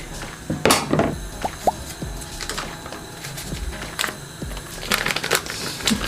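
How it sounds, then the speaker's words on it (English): Butter for pumpkin muffin batter is mixed with eggs in a bowl, giving close, irregular squishing and scraping sounds with small wet clicks and taps throughout, steady and moderately loud, no voices. "Mix the butter with the eggs."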